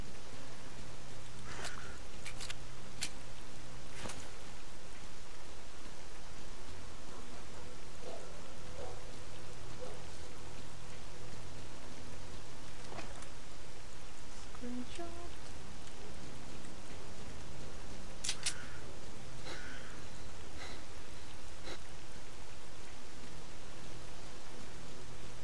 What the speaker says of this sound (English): Oh, and look, the rain caught up with me.